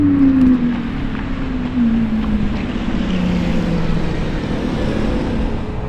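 A Lamborghini V12 engine in a Sterrato roars loud and steady, its pitch gliding slowly downward as it passes, with heavy wind rush over the drone.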